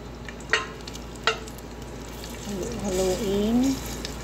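Garlic frying in a pan and stirred with a utensil: two sharp scraping knocks, then steady sizzling while a voice speaks over the cooking.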